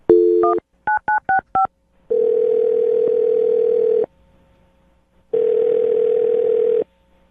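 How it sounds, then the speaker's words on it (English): A quick series of touch-tone dial beeps, followed by two long ringback tones separated by a pause. "I'm going to dial her phone number right now and get her on the phone"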